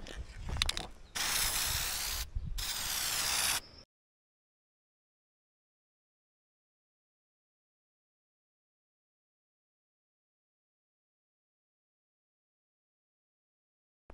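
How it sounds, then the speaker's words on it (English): An aerosol rattle can sprays paint outdoors in short hissing bursts, three close bursts with brief gaps over about four seconds, then silence. "I'm not the best with a rattle can, so I try to keep my coats pretty light"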